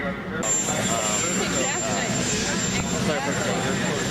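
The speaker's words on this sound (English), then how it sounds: "So the helicopter's getting ready to take off?" A Navy helicopter's loud, steady engine and rotor roar builds close by as it takes off, with a high whine running over it.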